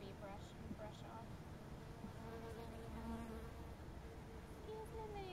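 Honeybees buzz in a steady, dense drone during hive installation as they are brushed off a hand, with faint whines of individual bees passing close and occasional quiet talk.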